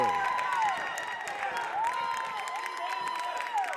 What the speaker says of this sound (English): I'm sure you can hear the delight of the Hills crowd after that 2-pointer from the junior big man Liam Kaza